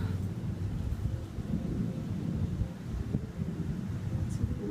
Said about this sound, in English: It's a lot of thunder right now.